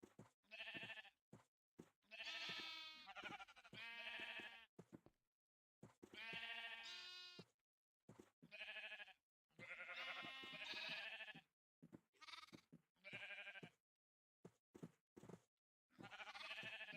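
Minecraft sheep bleat again and again, clear wavering calls in separate bursts with short silent gaps between, fairly quiet and without any talk.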